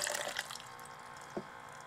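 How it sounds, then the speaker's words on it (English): A low-power airlift geyser pump shoots a short surge of water, a splashing gush at the start that settles into a running trickle, with one small splash near the end. "And how much does it shoot per surge?"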